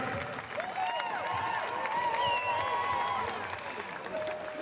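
A crowd at an X Games skateboarding event applauds and cheers the skateboarders with steady clapping. An announcer's amplified voice carries over the applause.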